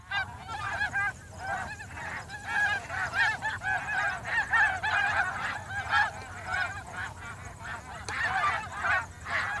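A flock of geese honks continuously, many overlapping calls forming a loud, clamorous chorus with no pauses.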